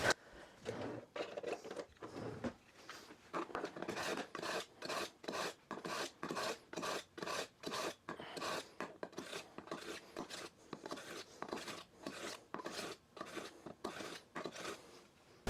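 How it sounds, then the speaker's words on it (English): Kitchen knife being sharpened in steady, evenly spaced rasping strokes, about two per second, close and fairly quiet, with no talking. "I need to sharpen my knife."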